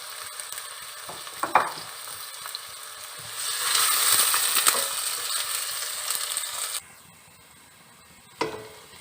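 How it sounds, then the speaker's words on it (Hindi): Onions sizzle in hot oil in a home kitchen, with spoon-stirring clatter and a hiss that swells loudly for a few seconds, then drops back to a quieter bubbling. Nobody speaks. "ऑयल हमारा गर्म हो गया है। बिस्मिल्लाहिर्रहमानिर्रहीम। इसे फ्राई करेंगे।"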